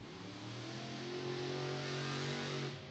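A monster truck engine at a stadium event revs loudly and steadily with a rising, sustained roar, no voices.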